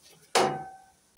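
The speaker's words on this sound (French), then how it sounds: "je mets toujours un petit coup de marteau pour le rapprocher au maximum de la poulie" A hammer gives a single sharp metallic tap to a belt guard on a Husqvarna/McCulloch/Craftsman mower pulley, ringing briefly before a second click at the end, close and alone.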